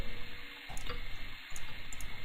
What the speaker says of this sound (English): we're gonna fill this pan with water